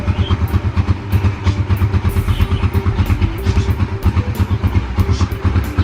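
Raider 150 FI motorcycle engine idling low and close, a loud steady pulsing putter with faint mechanical clatter and no talk.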